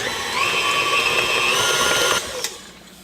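An electric mixer whizzes pecan roll cookie dough in a loud, steady whirring drone that runs for about two seconds, then cuts off abruptly, followed by a brief clatter and quiet.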